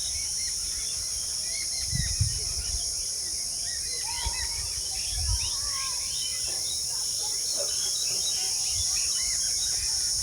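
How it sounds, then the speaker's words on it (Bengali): Crickets trill constantly beside the Ajay River in a village setting while birds chirp and call intermittently in the background, with a few soft low thumps. "ঝিঝি পোকার ডাক শুধু,"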